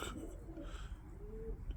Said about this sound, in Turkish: çok güzel bir kuş arkadaşlar